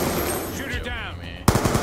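Automatic gunfire in Black Ops 2, a fast rattling burst of shots running loud throughout, ending in a sharper, heavier crack near the end, with no talk over it.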